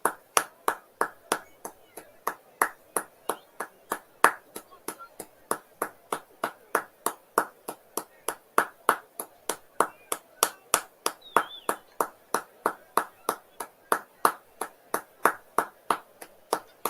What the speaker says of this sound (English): All sides of Anfield applauded that